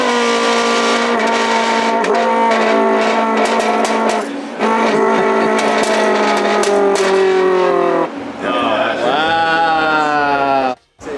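A voice imitates a Ferrari 458 engine revving, producing loud, sustained high-pitched revs with rising and falling pitch and brief breaks, and ending in a sharp drop and a short cutoff.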